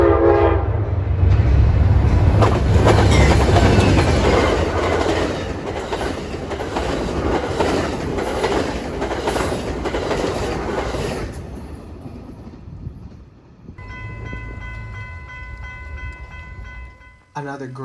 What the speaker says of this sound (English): Running hot on the heels of Metra Train 1262 was Amtrak number 6, the eastbound California Zephyr making its final dash into Chicago.